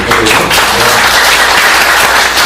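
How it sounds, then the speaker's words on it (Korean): A loud, vigorous round of applause from an audience at a Christian academy lecture, dense and continuous for the whole stretch. "여러분들 박수도 힘찬 박수가 필요한 것 같습니다"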